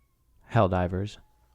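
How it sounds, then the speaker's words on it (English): A cat gives one loud, drawn-out meow at a door, close to the microphone, lasting under a second in an otherwise quiet room. "my cat is screaming at my door"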